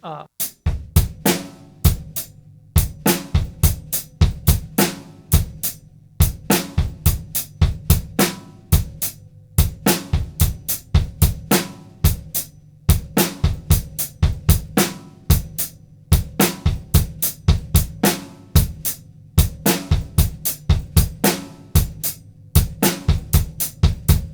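A drum kit plays a steady shuffle groove, crisp strikes in a bouncing triplet rhythm that repeats evenly throughout, close and clear with no talking.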